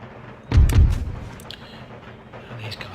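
Artillery in the Empire Total War strategy game fires with a heavy, muffled boom followed by a rumbling tail and scattered fainter crackles of battle.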